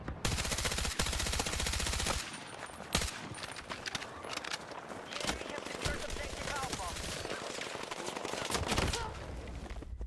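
Bursts of LMG machine gun fire in Battlefield 6 gameplay, loud dense rapid volleys opening the stretch and returning near the end, with scattered shots and game noise between.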